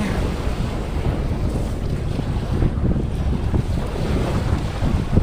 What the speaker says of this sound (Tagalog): Medyo maalon pa kasi hindi pa totally summer dito.